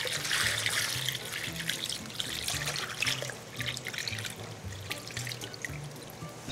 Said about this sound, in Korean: 깻잎이 잠길 정도의 충분한 물의 양을 모두 부어주세요.